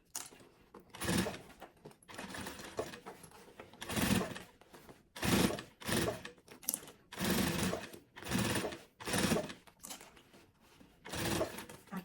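A sewing machine closes up a sublimated maternity kit garment in a run of short, loud stitching bursts separated by brief pauses, close by and with no talk.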